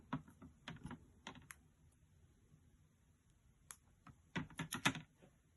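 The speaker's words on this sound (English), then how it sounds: "as I change the cards here for the next segment" Vintage sports cards handled and swapped, a series of soft close taps, flicks and shuffles in scattered clusters, quiet with a denser burst near the end.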